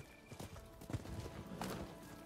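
Horse hooves clip-clop in the video game Rise of the Ronin, a quick run of light, even hoof strikes over a steady game background, fairly soft and close.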